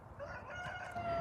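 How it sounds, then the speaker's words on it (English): A rooster crows out across rural Middle Tennessee, fairly faint and somewhat distant, a single drawn-out call heard over open outdoor ambience. "oh, we got us a rooster over yonder."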